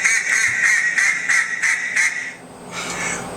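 A duck quacks in a rapid run of about eight nasal calls, then a pause and a longer drawn-out quack, close and clear with no voices.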